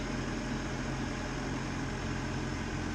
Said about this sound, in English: it's bloody tractors, isn't it?